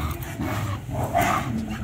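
A dog barks and growls briefly at close range among other dogs, with rough, noisy vocal bursts and a faint human voice in the background.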